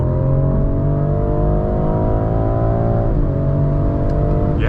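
A BMW M340i xDrive accelerates hard, its engine note climbing loud and close, dipping briefly at a shift and then rising again in a strong continuous pull.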